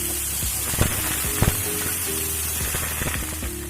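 Chopped banana stem greens dropped into a hot pan for an Assamese fish curry, a loud sizzling crackle with bursts of spatter and light clatter.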